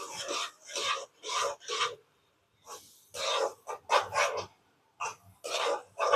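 Thick tomato thokku with tomato chutney is stirred in a pan, giving a series of about seven rough, rasping scrapes in uneven strokes, close and fairly loud with short pauses between and no talking.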